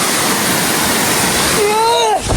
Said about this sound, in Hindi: झरना पहुंच गया है।